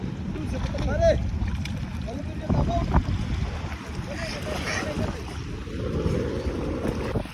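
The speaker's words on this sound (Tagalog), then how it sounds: "Malakas ng amihan." Strong northeast monsoon wind buffets the microphone in gusts over the sound of water and a fishing boat on the Pacific, with people talking throughout.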